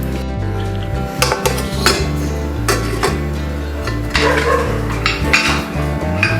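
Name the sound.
covering hot pressure cooker with lid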